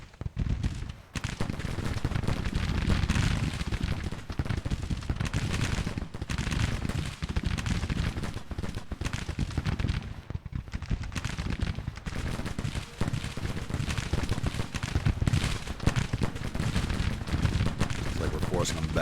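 Dense, continuous gunfire from a Civil War video game battle, volleys and scattered musket shots cracking nonstop with near-constant rumble, while a voice talks over it.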